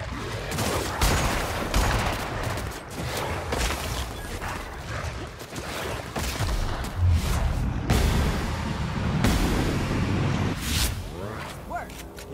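A sustained firefight in the video game The Outer Worlds, with rapid, loud gunshot bursts and impacts crackling almost nonstop and a few short pauses between volleys.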